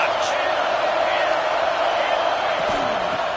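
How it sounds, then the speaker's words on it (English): Stadium crowd roaring steadily in College Football 26, a dense, loud wash of cheering that holds level throughout with a commentator talking over it. "this crowd is turning it up a notch"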